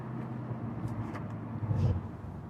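A 2016 supercharged Corvette cruises with its exhaust set to the quiet touring mode. A low, smooth engine drone and road hum fill the cabin, steady and subdued, with no talking.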